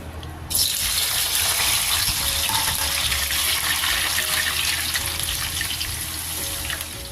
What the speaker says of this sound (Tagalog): Pag mainit na yung mantika, lagyan na natin yung carrots.